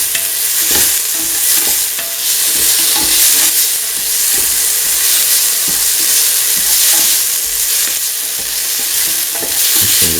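A spoon scrapes and stirs salt paste through a sizzling potato and split chickpea curry mixture in a pan, with repeated close stirring strokes over a continuous frying hiss.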